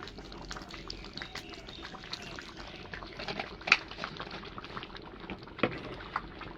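Ghee goes into a khichuri pot as it cooks, making a soft bubbling, liquid simmer with faint drips and a few small sharp clicks and pops, heard alone without talk.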